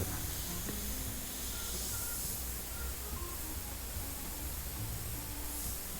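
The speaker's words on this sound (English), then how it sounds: "this is a really good airbrush" A paint airbrush sprays in one continuous, even hiss at close range, with a faint low background hum and no talking.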